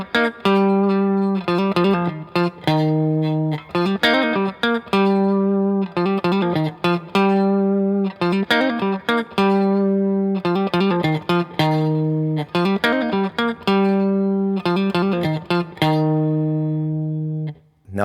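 An electric guitar plays a riff, a repeating pattern of punchy, clean-toned low notes and short chord stabs in a steady, looping rhythm, alone and fairly loud.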